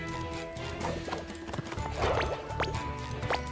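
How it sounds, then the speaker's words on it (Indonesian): Horse hooves clip-clopping in a SpongeBob video game, a steady run of clear, close hoofbeats with a few whinnies rising above a low background music bed. "Ada kuda lagi."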